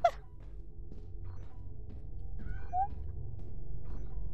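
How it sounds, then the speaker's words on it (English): A short, faint cat meow amid quiet game ambience and a low background hum. "I heard a cat. Follow the cat noise."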